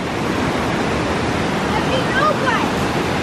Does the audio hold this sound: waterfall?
yes